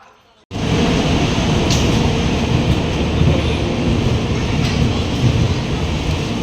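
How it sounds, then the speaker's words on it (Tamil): A train rushes past close by near Varkala, India, with a loud, continuous roar and rattling that starts abruptly and holds steady throughout. "பன்னெண்டே காலுக்கு வர வேண்டிய ட்ரெயின்"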